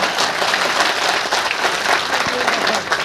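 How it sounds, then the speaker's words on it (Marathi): An audience at a Bhim Jayanti speech in Nanded breaks into sustained, dense applause, loud and continuous throughout, with a few crowd voices mixed in. "टाळ्या सर्वांनीच वाजायच्या"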